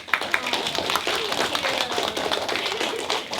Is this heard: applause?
yes